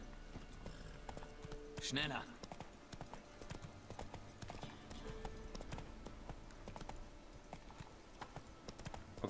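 Horse hooves clip-clopping in The Witcher 3 video game, a steady rhythm of steps under game ambience, with someone speaking German over it.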